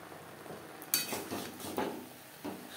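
Radish greens with eggplant frying in a covered pan, with a soft steady sizzle broken by a few faint clinks and scraping stirs, all quiet and close.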